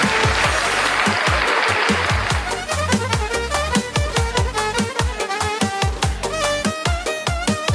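Audience applause at a Bulgarian folk-pop show, breaking into a dense wash of clapping over loud rhythmic music with thumping bass beats, the clapping strongest early and then fading under the band.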